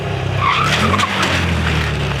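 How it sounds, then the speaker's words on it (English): A motorcycle brakes abruptly while leaned over in a corner, its tires skidding in a loud, continuous screech that lasts about two seconds with no letup. "Braking in a corner is dangerous when you do it like this"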